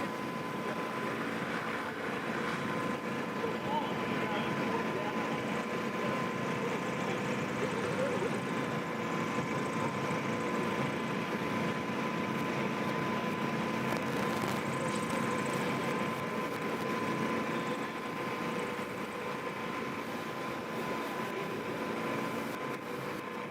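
A paramotor-style aircraft with rear-mounted fans comes in during a STOL demo at the Sun 'n Fun air show, a steady droning engine hum sustained throughout at moderate distance over outdoor crowd noise.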